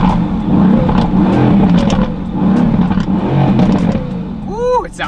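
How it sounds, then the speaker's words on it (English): A Mercedes-AMG GT S running a custom Eurocharged tune revs loudly at close range, its engine note rising and falling with rough, throaty pulses and crackling pops as the revs drop off near the end. "I just love when the car pops on revs."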